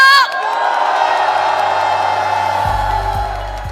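A large crowd at a Korean opposition parties' political rally roars with cheers and whoops, loud and sustained, the shouting tapering slightly as it carries on.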